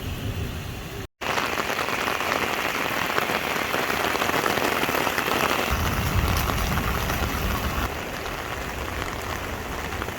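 Heavy flood rain at Mount Tamborine pours down in a dense, steady roar, drumming continuously on surfaces, with one very brief dropout near the start.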